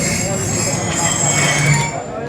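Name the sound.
passenger train at Sahiwal railway station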